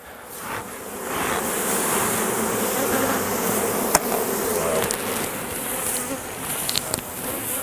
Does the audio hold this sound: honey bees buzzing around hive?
yes